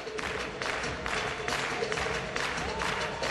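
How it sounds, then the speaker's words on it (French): An arena audience applauds a figure skater's step sequence with sustained clapping that swells in waves, heard under a faint layer of background sound. "Ces séquences de petits pas sont particulièrement applaudies."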